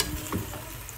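Eggplant frying in a pan for adobong talong, a steady close sizzle and crackle of oil with a brief stirring scrape partway through, no voices.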